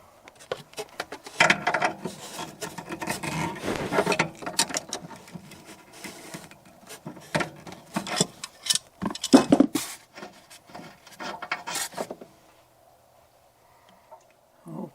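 Metal and plastic clinks, scrapes and taps come from removing an old check valve on an RV water heater and installing a new one, in irregular bursts with pauses, then quiet at the end.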